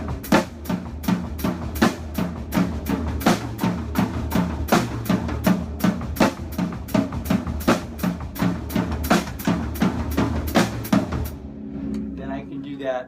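Drum set playing a flam pattern with steady eighth notes on the floor tom while the bass drum thumps underneath, a dense, even run of sharp hits that stops near the end, leaving the toms ringing out.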